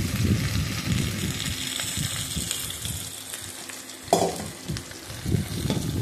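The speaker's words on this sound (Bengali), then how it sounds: "এখন পাঁচফোড়নের মধ্যে আমগুলো ঢেলে দিলাম।" Mango pieces tipped into hot oil with panch phoron spices sizzle and crackle steadily, with a sudden louder burst of frying about two-thirds through and soft stirring scrapes, close and fairly loud, no talking.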